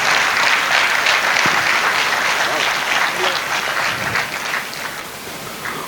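A large audience claps steadily at a Hindi comic poetry gathering (kavi sammelan), a dense, sustained wash of applause lasting several seconds that eases slightly toward the end, with some voices mixed in.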